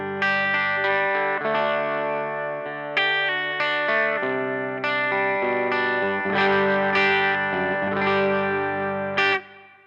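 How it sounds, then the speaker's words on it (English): Clean electric guitar chords through a budget valve amp ring out with a short, subtle reverb tail set low, played steadily alone with distinct strums and a brief final accent. "the reverb at 9 o'clock adds a little bit of ambience without being too overbearing"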